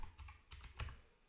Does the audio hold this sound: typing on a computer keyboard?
yes